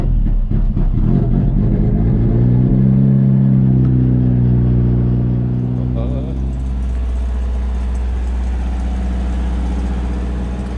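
A Subaru BRZ drift car engine idles close by with a deep, steady rumble, swells into a rising rev for a few seconds, then settles back to an even idle.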